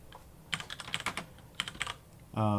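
Quick bursts of keystrokes clatter on a computer keyboard in two short runs, then a steady tone cuts in at the end.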